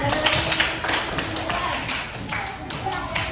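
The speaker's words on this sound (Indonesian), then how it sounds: "Tepuk tangan untuk Reha" Applause from a school class, a dense spread of hand claps sustained throughout with a busy, roomy classroom background and scattered voices.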